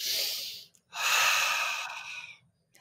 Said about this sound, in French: prenez une respiration